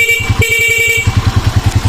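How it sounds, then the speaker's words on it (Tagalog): A motorcycle horn, fitted with a capacitor added to the battery, beeps loudly, a steady tone that cuts off briefly and sounds again, over the rapid putter of an idling engine. "ito po yung kanyang busina"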